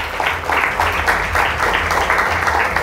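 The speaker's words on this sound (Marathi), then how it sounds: "जोरदार टाळ्या त्या देवासाठी." A congregation at a sermon clapping loudly together, a strong rhythmic wash of many hands with pulses roughly every half second, filling the whole stretch with no speech over it.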